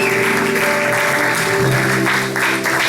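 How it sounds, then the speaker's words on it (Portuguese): A church congregation claps together in loud, dense, continuous applause lasting the whole stretch, with steady sustained tones running beneath it. "Vamos dar uma salva de palmas, Senhor."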